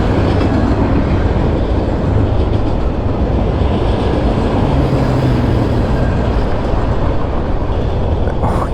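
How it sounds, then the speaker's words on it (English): A freight train with pallet cars rumbles past close by, a loud, continuous roar of wheels and rushing wind that holds steady throughout. "that's some pallet cars that blow wind like crazy"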